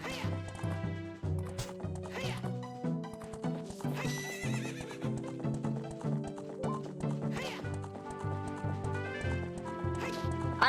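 Horse neighing and whinnying with galloping hoofbeats in the 3D remake of the video game Ocarina of Time, loud and continuous under a busy layer of game music throughout.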